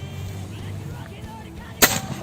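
A handmade air rifle with a manually built chamber fires one sharp, loud shot near the end, after low, muffled handling noise.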